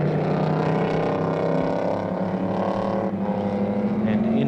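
Touring race car, a Ford GT among them, driving through the last two small right-hand bends at Warwick Farm circuit in 1973, a loud steady engine drone under a commentator's voice.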